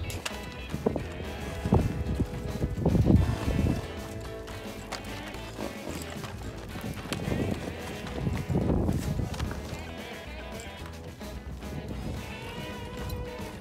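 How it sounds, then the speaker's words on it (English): A small horse moves on the ground, its hooves clip-clopping in uneven bursts with some heavier thuds, fairly close, over a low background. "This little horse, Peanut, she keeps surprising me"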